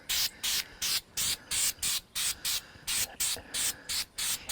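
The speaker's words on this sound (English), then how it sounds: "Give it a couple of good sprays to start with." Aerosol spray can applying a coating onto a homemade rod tube from about two feet away: a rapid series of short, even hissing bursts with brief gaps, close and loud, no talking.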